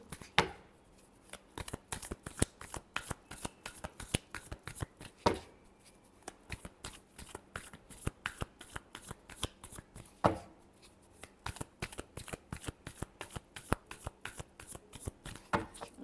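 Tarot cards being shuffled by hand in a steady run of quick riffling clicks and slaps, close and fairly quiet, with brief pauses near the fifth and tenth seconds before the shuffling resumes.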